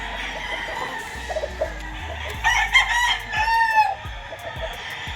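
White Kelso gamefowl roosters crow repeatedly over scattered hen clucks in an outdoor flying pen conditioning area on a gamefarm, the crows rising loud and close between softer background calls.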